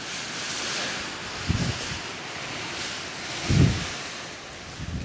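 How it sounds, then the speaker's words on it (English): Wind blows over the Wasootch Ridge mountain ridge line as a steady broad rushing hiss. Two brief, deeper gusts buffet the microphone along the way. "You can hear the wind above me."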